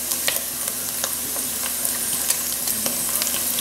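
Minced garlic sizzling in a hot pan while being stirred, with a steady frying hiss punctuated by small scraping clicks from the spoon, close and moderately loud.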